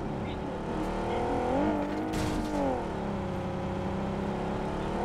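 A buggy's engine in the mobile game BGMI drones steadily and loudly throughout, rising briefly as if revving, while voices talk over it.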